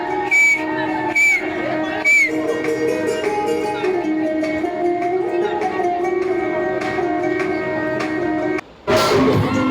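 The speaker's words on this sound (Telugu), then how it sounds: "ఆ విజిల్ చేసేదంతా నేనే." Shrill whistling at a cousin's wedding celebration, sharp repeated bursts ringing out near and loud over a dense, continuous bed of festive music.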